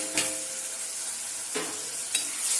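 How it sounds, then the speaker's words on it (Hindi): Tomatoes, green chillies and spices sizzling in a pan over low gas for paneer Kolhapuri, a steady close hiss broken by a few sharp scrapes of stirring. "अब हम इसमें टमाटर डाल देंगे। गैस हमने धीमी कर दी है। हरी मिर्च डाल देंगे और ये मसाले डाल देंगे।"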